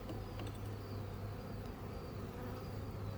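Honey bees buzz in a dense, continuous drone from an open hive in a bee yard, loud and close throughout.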